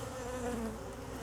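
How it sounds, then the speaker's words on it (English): Angry honey bees swarm around an opened hive during requeening, a dense, continuous buzzing drone close to the ear with wavering pitch as individual bees pass. "these are angry bees"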